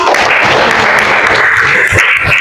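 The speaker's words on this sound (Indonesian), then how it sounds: "Beri aplaus dulu dong." A classroom group claps together in dense, continuous applause that stays loud and even for the whole stretch, with no voices rising above it.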